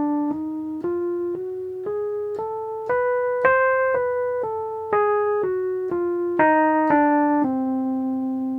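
A diminished scale beginning on concert C, played note by note in an ascending then descending whole-half pattern, steady and clear, about fifteen sustained pitched notes ending on a longer held tone, with no talking.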